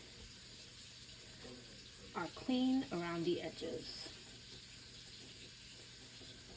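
Hot water runs from a tap for cleaning pickle jars, a faint steady stream under a speaking voice, with a few clinks and splashes in the middle.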